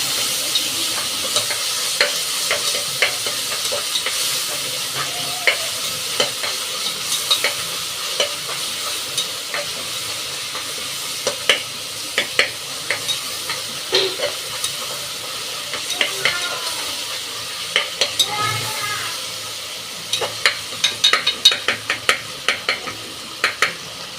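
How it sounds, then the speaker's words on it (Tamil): Tomato, ginger, garlic and green chili frying in a pan for veg pulao, a steady sizzle throughout with frequent sharp stirring scrapes and clicks, close and fairly loud, no voices. "இஞ்சி, பச்சை மிளகாய், பூண்டு, இஞ்சி பூண்டு பேஸ்ட்டு, பச்சை மிளகாய் போட்டு நல்லா ஃப்ரை பண்ணி எடுத்துக்கணும்"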